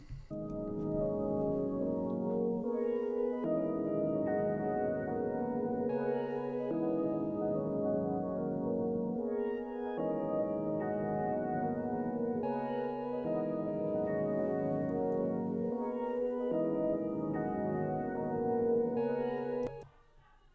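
A looping musical beat plays back on its own, repeating pattern of synth tones and bass notes cycling in regular bars, no voices.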